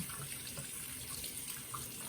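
Tap water runs steadily into a sink while a water-soluble-ink print block and plate are rinsed by hand, a continuous close splashing hiss with no talk.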